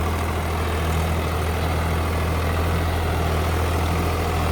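Swaraj 744 FE 4WD tractor engine running under load at about 1300 RPM while mixing soil in a seeded field, a steady, loud, deep diesel drone with constant low rumble and no breaks.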